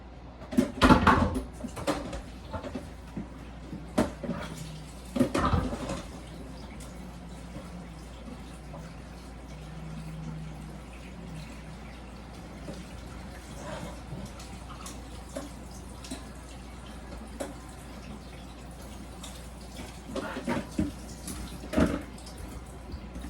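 Running water splashes over organic carrots being washed in a kitchen sink, a steady rinse with louder bursts of handling and clatter near the start and end.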